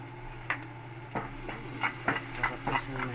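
Garlic frying for siomai sauce, with a steady low sizzle under repeated sharp scrapes and clinks of a utensil stirring in the pan, all close by.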